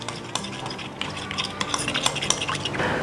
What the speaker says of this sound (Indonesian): Terus kita aduk